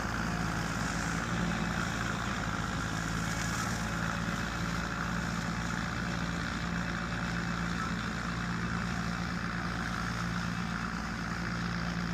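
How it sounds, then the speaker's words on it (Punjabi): A tractor engine runs steadily at full load on a farm, a continuous loud rumbling drone with no pauses and no voices. "ਪੂਰਾ ਤਨ ਕੇ ਚੱਲਦਾ ਟਰੈਕਟਰ"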